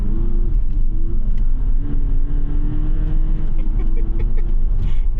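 A VW Passat with 221,300 miles accelerates in sport mode, its engine a steady, loud in-cabin drone with rising harmonics that climb through the run, while faint rattles and jingles sit over the rumble.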